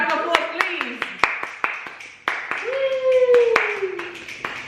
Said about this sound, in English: Oh, a round of applause, please.